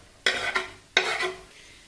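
Potatoes with salt and chopped coriander being stirred in a pan, two short scraping strokes close by, each a soft burst that fades, with no talk.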